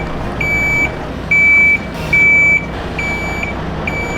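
A truck's reversing alarm beeps repeatedly in loud, high-pitched tones at a regular rhythm over a low engine rumble.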